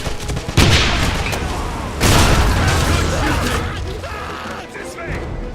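A grenade explodes in the video game Wolfenstein, with sharp booms amid gunfire and shouted voices over the noise.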